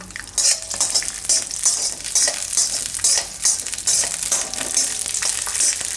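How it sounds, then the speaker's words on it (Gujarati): Steady oil sizzle of peanuts frying in ghee, with repeated scraping strokes of a spoon stirring the pan, continuous and fairly loud with no talk. "એમાં આપણે નાખી દઈશું આ સિંગદાણા તો એને આપણે તળી લેવું"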